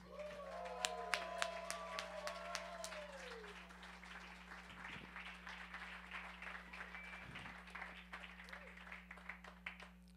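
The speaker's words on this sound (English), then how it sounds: "The least you can do is give him a huge round of applause" Comedy club audience applauding a comedian, a small crowd clapping steadily and fairly faintly with a few whoops early on, over a constant electrical hum.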